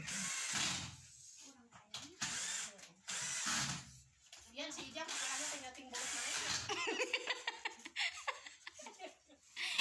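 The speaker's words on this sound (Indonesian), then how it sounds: "jadi saya menggunakan bor cas saja ya biar ringan" A cordless drill drives a screw in several short bursts while a wall shelf is mounted, mixed with people laughing and talking nearby.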